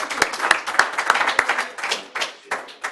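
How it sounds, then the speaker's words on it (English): Audience applause closing a panel on the Afghanistan War, a close, lively patter of clapping hands with a few prominent claps, continuing steadily before tapering slightly at the end. "another round of applause, and thank you for joining us"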